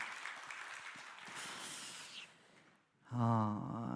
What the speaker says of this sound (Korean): 큰 박수 하시겠습니다.